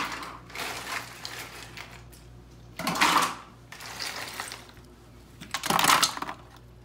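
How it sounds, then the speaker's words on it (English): Ice is poured and packed around a churn-style ice cream maker while vegan coconut and vanilla ice cream is prepared. It comes as three rattling, clinking bursts over a quiet background. "I'm going to take the ice, fill it in around the machine."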